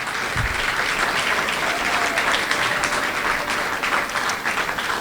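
A congregation at a religious gathering applauds in sustained, loud, even clapping that fills the whole stretch without speech.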